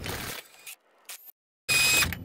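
A socket wrench ratchets bolts off a Honda Civic electric motor: two loud, buzzy bursts of clicking separated by a brief quiet gap, heard close up with no talking.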